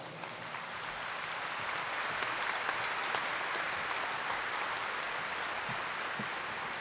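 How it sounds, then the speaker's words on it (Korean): Church congregation applauding at an Easter morning service as the pastor, Park Ok-soo, is welcomed to the pulpit; steady, dense clapping from a large crowd, filling the room without a break for about seven seconds. "여러분 우리 큰 박수로 목사님을 맞이하겠습니다."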